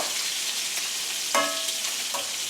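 Lamb chops fry in a hot pan with a steady, even sizzle and hiss, broken by a brief spatter pop partway through.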